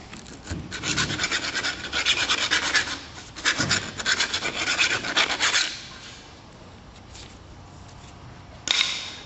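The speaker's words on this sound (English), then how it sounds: "what you can do is just take a file" A hand file rasps across a freshly cut metal piece to remove burrs, with repeated back-and-forth scraping strokes in bursts, then a quieter lull and a final short stroke, close and without talk.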